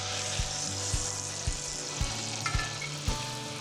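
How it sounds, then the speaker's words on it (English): Brisket sears in hot oil in a Dutch oven on medium-high heat, giving a steady crackling sizzle with faint, regularly spaced low knocks beneath it. "I'll let this sear on medium-high for about 5 minutes per side until it's golden brown"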